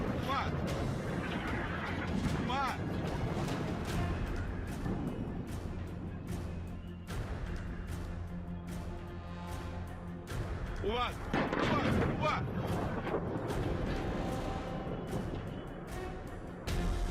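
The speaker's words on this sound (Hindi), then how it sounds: "बैरूत के दक्षिणी इलाके में रॉकेट और गोलियों की आवाज गूंजने लगी थी" Rocket fire and gunfire in southern Beirut, a dense, continuous barrage of booms and cracks with bursts of louder rapid shots, heard from a distance throughout, with some voices mixed in.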